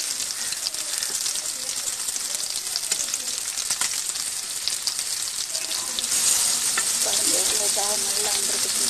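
Fish fries in a pan with steady, bright sizzling and crackle throughout, growing a little louder near the end, with occasional stirring and clinks.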